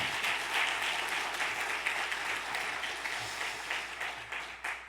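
A congregation at an early-morning church prayer service claps in steady, dense applause of encouragement for the worship team. The clapping is loud and continuous for the whole stretch, with no talking over it.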